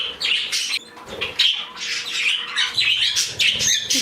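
Three budgies in an indoor cage chirp and squawk loudly and close by, with bursts of wing flapping as they flit around.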